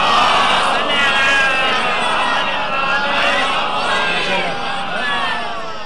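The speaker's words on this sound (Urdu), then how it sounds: "ایک نعرے سلوات سے ان کا استقبال کریں" A crowd at a celebration of Hazrat Abbas Alamdar in a UAE imambargah raises a loud, sustained collective chant of salawat to welcome a speaker, many voices blending in a dense continuous roar throughout.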